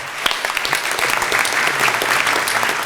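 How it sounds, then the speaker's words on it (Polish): An audience at a university academic-year inauguration ceremony applauds, a full, even wash of clapping sustained at steady loudness for about three seconds with no other sound standing out. "Brawa."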